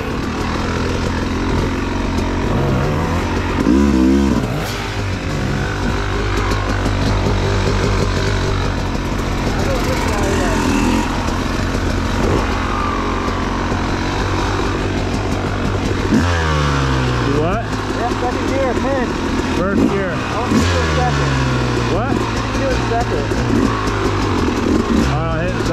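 A Yamaha YZ250X two-stroke dirt bike labours up a steep hill, its engine droning and revving in rising and falling sweeps close by, with wind rumble and voices talking over it.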